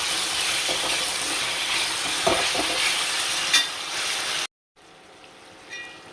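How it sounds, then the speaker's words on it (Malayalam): Sliced onions sauté with salt in a pan for a pepper chicken roast, making a loud, steady sizzle with occasional stirring scrapes before the sound cuts to a quieter, softer frying hiss. "ഉപ്പിട്ട് കൊടുത്തു ഇനി നല്ലോണം ഇതൊന്നും വാട്ടിയെടുക്കാം"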